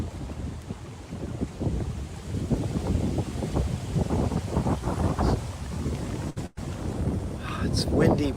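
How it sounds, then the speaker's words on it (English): Gusty wind in Florida buffets the microphone with a low, rumbling roar that rises and falls steadily throughout, with a brief dropout near the end. "It's windy, but it's beautiful."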